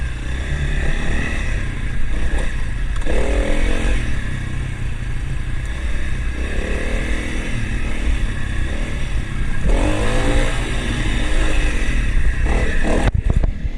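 A Honda CRF300L dual-sport motorcycle putts along a single-track trail, its engine a steady, close, continuous drone with occasional rising revs and some clatter and scrape from the ground.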